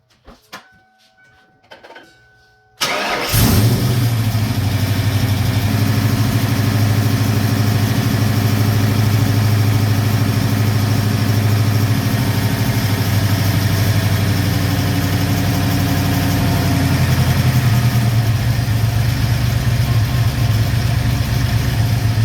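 A Ford 5.0L engine with an idle air control adjuster starts up after a few seconds of quiet handling noise, then settles into a loud, steady idle with a low hum that holds throughout.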